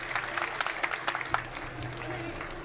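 Applause from the audience at a political election rally, a short burst of scattered clapping with sharp individual claps early on, settling into softer crowd noise.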